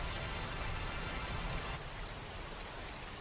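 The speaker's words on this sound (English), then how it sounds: "We can actually give this rain musicality." Steady rain recording shaped by a musical EQ app on iOS, a dense, even hiss of falling drops that stays loud and continuous throughout, with no voices.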